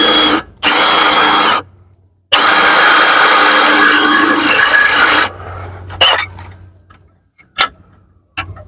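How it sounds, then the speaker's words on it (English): Power drill boring out an engine mount on a Cadillac SRX 4.8 V8, loud close whining bursts of several seconds separated by short pauses, then lighter clicks and taps of metal parts. "so I'm just going to drill it now."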